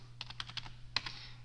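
Someone typing on a computer keyboard while drafting, a quick burst of light clicks with a sharper keystroke near the end, close and quiet over a low electrical hum.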